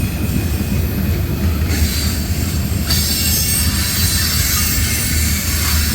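A CSX freight train of empty tank cars rolls past close by, a loud continuous rumble with wheels squealing and faint rhythmic clacking throughout.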